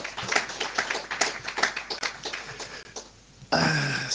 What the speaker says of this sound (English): big round of applause for Lorenzo and for